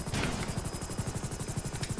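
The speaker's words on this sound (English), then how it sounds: "It is a weird helicopter to fly at first, though." A Hunter Killer attack helicopter in a video game gives off a steady, rapid rotor chop over a dense engine whine, loud and continuous throughout.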